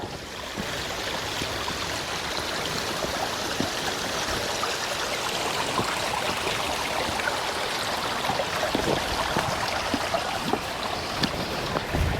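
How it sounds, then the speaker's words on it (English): Shallow forest stream being forded on foot, the water rushing and splashing steadily up close, with soft sloshing steps breaking through the flow and no talking. "now we're going to ford this stream and try not to get wet"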